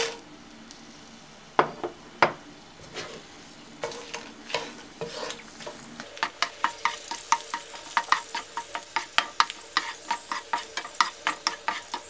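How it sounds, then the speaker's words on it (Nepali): Chilies frying in a little oil in a pan for sukuti, with stirring and utensil scrapes that grow into a steady run of sharp clicks and taps over a soft sizzle, close and fairly quiet. "ग्यास अन गरी खुर्सानीलाई थोरै तेलमा राखेर भुट्नुहोस्"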